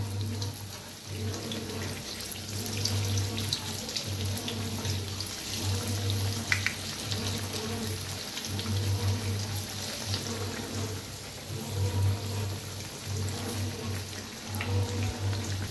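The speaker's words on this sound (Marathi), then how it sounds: "छान दोन्ही साईडने असं तळून घेऊया।" Vada pav frying in hot oil, turned to cook on both sides: a continuous bubbling sizzle with a faint low hum underneath, steady and close, with no talking.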